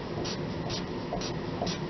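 A pen scratches across a board in four short, evenly spaced strokes as cards are crossed out, heard close against a quiet room hum.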